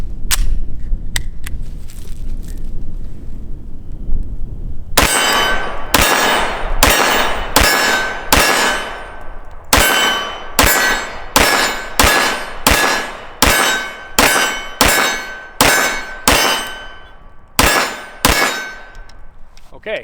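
A magazine of shots from a CZ P-07 pistol ringing off steel targets, roughly twenty sharp cracks, each followed by a metallic clang, in a quick irregular string with short gaps, loud and close.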